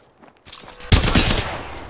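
Video game gunfire, a burst of rapid overlapping shots that rises suddenly after a quiet moment and continues as a dense, loud volley.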